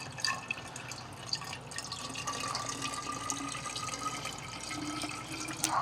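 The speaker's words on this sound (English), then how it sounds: "I will pour in some water and try to not make a mess" Water poured into a container onto a tank sensor trickles and splashes steadily for several seconds with scattered drips, close and fairly loud, without talk.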